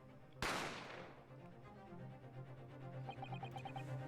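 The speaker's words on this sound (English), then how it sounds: "You heard the gunshot, you mean?" A single sharp gunshot in The Great Ace Attorney cracks loudly and decays over about half a second, followed by quiet game music with soft chiming notes.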